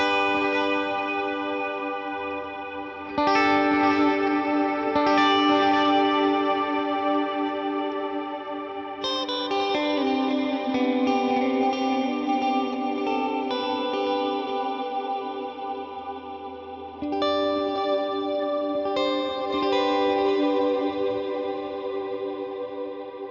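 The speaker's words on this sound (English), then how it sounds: "So here's the long reverb." Electric guitar run through a long reverb on a Fractal FM9, loud sustained chords and notes swelling with chorus-like shimmer and long washing tails, restruck several times across the passage with no talking.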